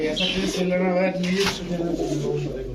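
Giribaz pigeons, teddy, racer and high-flyer types kept for sale, coo in low, rolling bursts close by while someone talks over them.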